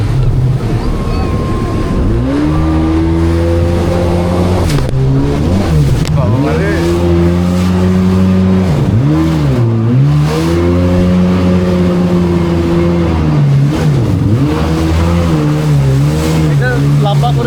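Jet ski engine revving on the sea at Cox's Bazar, loud and close, its pitch rising and falling repeatedly as the throttle opens and eases, with wind and water noise throughout.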